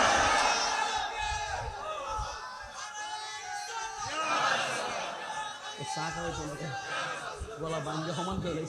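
A crowd at an Islamic religious gathering (mahfil) shouts a religious slogan: many voices rise together in loud, ragged chanting and cheering, with a speaker's voice mixed in over the sustained roar.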